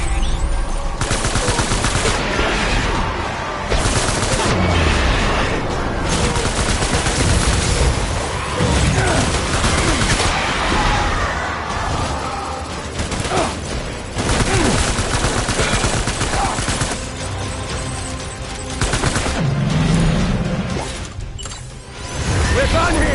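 Dense, sustained video-game gunfire with rapid automatic bursts and heavy booms, loud throughout and overlapping with voices.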